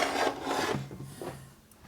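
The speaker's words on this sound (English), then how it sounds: "You put on a nut on the key, and you just pull the key out." Diagonal cutters grip and pull a key from a shaft during a 1979 Harley-Davidson Shovelhead 80ci engine rebuild, giving a short, gritty metal scrape and rub that fades off.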